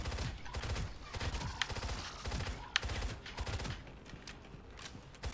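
A silenced gun in the video game Shadowgun fires in rapid repeated shots, a steady stream of muffled reports running throughout at close range.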